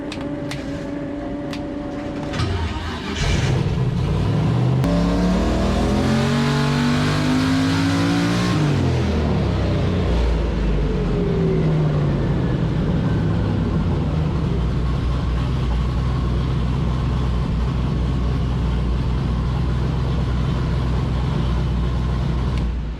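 A turbocharged LS V8 in a Foxbody Mustang roars on a dyno, winding up from idle through a long climbing wail to a loud, sustained high-rpm drone that holds close and steady, with no voices.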